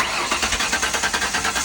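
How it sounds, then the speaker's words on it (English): A towed auction car's engine cranks with a rapid rhythmic starter chatter and catches, running steadily up close with a jump box still hooked up, no voices over it. "Started right up with the car."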